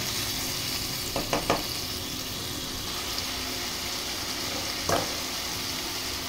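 Spice paste for bacha fish curry sautéing in a pan, a steady low sizzle with a few brief clinks of stirring scattered through, quiet and close.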